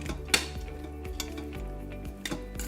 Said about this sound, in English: So I'm just going to sprinkle that in and stir it up.